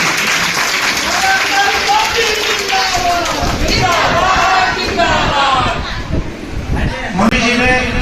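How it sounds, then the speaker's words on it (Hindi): An audience at a women's empowerment conference in Azamgarh gives loud, sustained applause for the Prime Minister. Voices shout and speak over the dense clapping, which dips briefly before rising again. "ऐसे हमारे पूजनीय प्रधानमंत्री जी के लिए भी एक जोरदार ताली होना चाहिए।"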